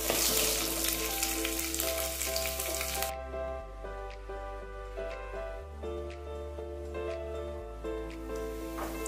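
Cumin seeds, urad dal and three dried red chillies frying together in a pan for Kerala raw mango sambar: a steady sizzle that is loudest at the start, with background music running underneath.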